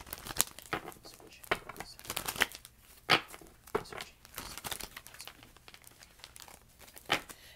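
Papery riffling and soft slaps of tarot cards being shuffled, coming in quick bursts with brief pauses, close by.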